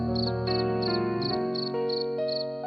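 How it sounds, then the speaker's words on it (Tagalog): Crickets chirp at night in the Philippine countryside, a steady repeating pulse of high trills in even bursts over a sustained droning background, with no voices or traffic. "kuliglig ang background music."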